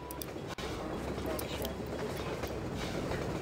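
Train arriving in the Half-Life 2 video game, a steady rumbling, clattering rush of rail noise that fills the scene at constant loudness, with a brief dropout early on and no speech over it.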